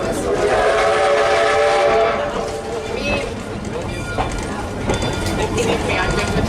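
Canadian Pacific 2-8-0 steam locomotive #3716 sounds a loud, sustained chime whistle for about two seconds on the Kettle Valley Steam Railway, followed by rumbling running noise and fainter whistle traces.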